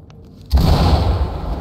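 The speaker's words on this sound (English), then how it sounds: "Flashbang." A flashbang grenade goes off in the tactical shooter Ready or Not, a single sharp close bang after a quiet moment, followed by a loud sustained roar of noise.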